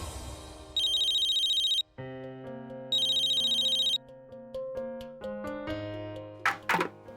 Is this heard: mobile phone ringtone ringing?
yes